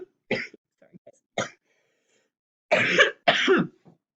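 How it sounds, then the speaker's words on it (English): A person with a nasty cough gives several harsh coughs and throat clears, with short bursts spaced apart and a closer double burst near the end. "Tested for COVID, not positive, but I still have this nasty cough."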